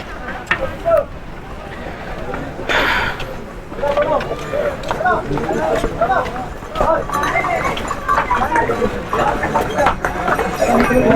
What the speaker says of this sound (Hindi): इस तरह से घोड़े आते रहते हैं।